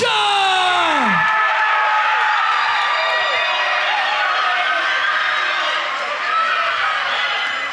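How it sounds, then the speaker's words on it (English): A fight crowd at a Sparta 106 bout roars and whoops for Max Vollmer against Beau Rocha, loud and sustained throughout with yells and bellows piling up, while an announcer's voice carries over the din. "A lot of VOLLMER fans in the crowd, letting Rocha hear it."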